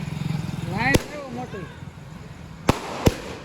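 A faint voice murmurs early on, then three sharp firecracker bangs crack out at a celebration, one near the start and two close together near the end.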